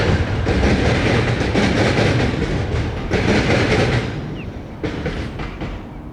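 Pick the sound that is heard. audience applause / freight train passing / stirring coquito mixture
freight train passing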